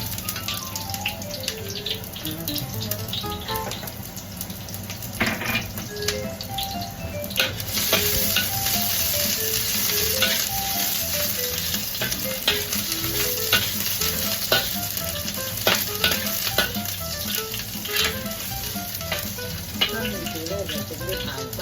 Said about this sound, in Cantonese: 煎排骨咧，落啲乾葱落去。